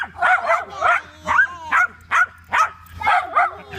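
A dog gives a string of short, close barks and yips at a fairly regular pace, with a faint hum underneath.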